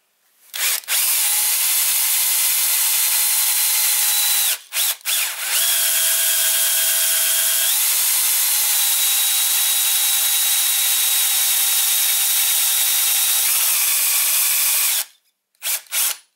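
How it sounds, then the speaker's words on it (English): A drill whirs loudly and continuously, its pitch shifting in steps as it runs, with a few brief pauses before stopping, hand drilling a gear cover for a Sieg mini lathe. "now I'm just going to just try hand drilling"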